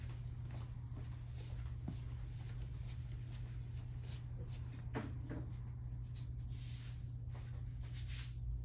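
A drawer slides and knocks open and shut during a nail art session, soft clunks and rattles over a steady low hum, with faint background noise.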